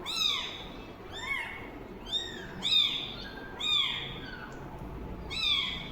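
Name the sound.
kitten crying softly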